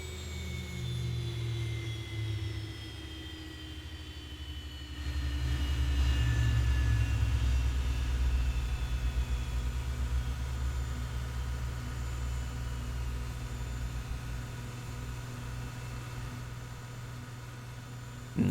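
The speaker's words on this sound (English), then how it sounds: "one of my favorite things about the Zibo 737 is the engine sound." A Zibo Boeing 737 engine in X-Plane 11 spools down after shutdown, a jet whine gliding steadily lower in pitch over a deep rumble that swells briefly, then settles into a fading drone.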